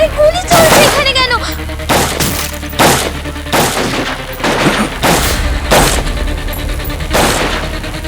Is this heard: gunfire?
yes